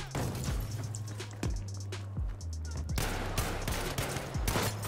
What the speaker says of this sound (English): who started shooting at me?